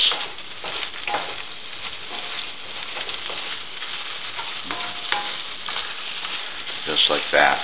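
Chorizo and eggs sizzle steadily in a pan while a utensil stirs and scrapes through them, a close, constant frying hiss with occasional clinks.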